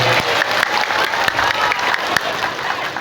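An audience at a Maulid sermon gathering in a Majalengka shop applauds, dense clapping with scattered sharper claps, loud and sustained throughout.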